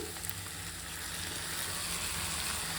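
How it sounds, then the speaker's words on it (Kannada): Tomatoes go into onions frying in hot oil in a pan, giving a steady, dense sizzle that stays close and fairly quiet with no talk. "ಇವಾಗ ಇದಕ್ಕೇನೆ ನಾನು ಟೊಮೆಟೊ ಆ್ಯಡ್ ಮಾಡ್ತೀನಿ."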